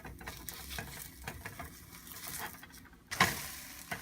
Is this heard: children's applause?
no